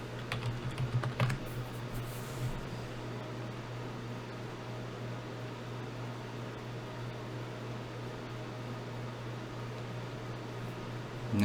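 Quick keystrokes on a computer keyboard come in a short burst near the start, then fade into a steady low hum of a fan for the rest.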